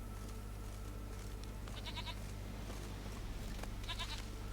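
A goat bleats twice in The Witcher 3 video game, two short wavering cries a couple of seconds apart over a steady low droning game ambience.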